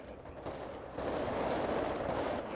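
Sustained gunfire from a shootout at a building in a roleplay video game, a dense, loud rumble of shots that swells after the first second and keeps rolling without pause.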